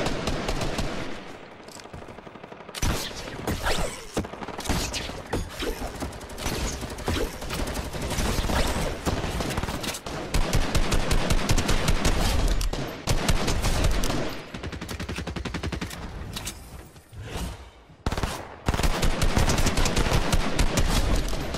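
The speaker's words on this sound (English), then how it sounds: "Hey, they're shooting over there." Rapid bursts of automatic gunfire and scattered shots in a Fortnite battle royale match, loud and near, crackling almost without pause with brief lulls between volleys.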